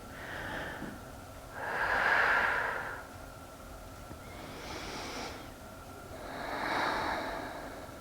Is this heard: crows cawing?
no